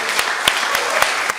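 An audience claps together at a book launch event for Kim Deok-ryong, a steady dense applause that holds level throughout, with a few sharper claps standing out at regular moments.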